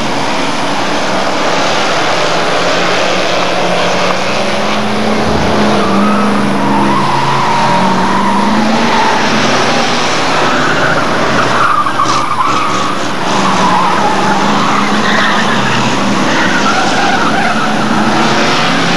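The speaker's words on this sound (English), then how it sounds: "but 391 Andy Smith is out and racing again" Hotstox race cars lapping an oval at Buxton, loud engines roaring and tyres skidding and squealing in a continuous wall of racing noise, with a brief louder scrape midway.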